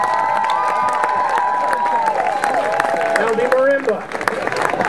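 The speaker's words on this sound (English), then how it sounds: "please give a warm welcome and thunderous applause for the Spruce Street Moving On Marimba Ensemble" A crowd claps and cheers at a 2011 folklife festival as a children's marimba ensemble is welcomed, with a few shouts and a voice speaking over the steady applause.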